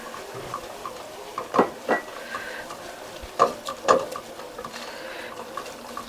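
Flour being stirred into browning butter in a pan to start a roux, a soft scraping patter with a few sharper utensil knocks against the pan, close and steady over a faint sizzle.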